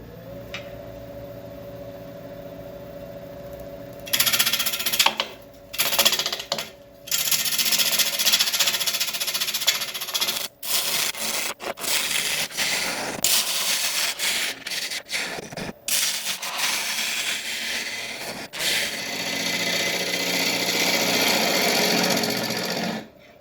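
A resin platter blank spins on a wood lathe as a tool cuts into it: after a quieter start, loud continuous whirring and scraping comes close up, broken by brief pauses and sharp bursts.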